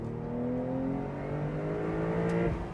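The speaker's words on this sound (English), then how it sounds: "The engine still sounds glorious. It's an absolutely glorious engine note." A 2025 Porsche 911 Carrera T's engine drones steadily while driving, a strong sustained note with gently shifting pitch throughout, loud and close with no talking.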